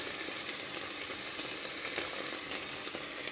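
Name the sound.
carrots and potatoes frying in pan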